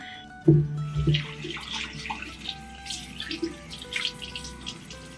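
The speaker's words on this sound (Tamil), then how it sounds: "ஸோ குயிக்காக ஃபேஸ் வாஷ் பண்ணியாச்சு." Tap water runs into a sink while a face is washed, with a close splash at the start, then an uneven flow of light splashing and dripping that continues without talk.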